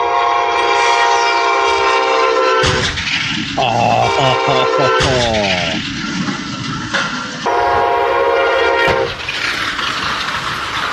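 A train passing at a railroad crossing, loud and close, with a blaring horn blast and rhythmic rail clatter over a rushing roar, a voice speaking briefly.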